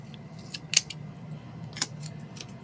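Scissors snip paper to trim it to fit inside a box, with a few soft, close cuts spaced apart over a low background hum.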